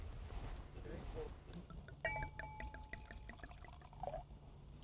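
Dessert wine poured into a glass at a vineyard tasting, a brief soft glugging trickle near the middle of the moment, faint and close, with a person talking around it.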